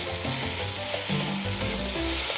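Vegetables for chicken chow mein sizzle steadily in a hot pan while being stirred, a continuous close frying hiss with occasional scraping, no voices.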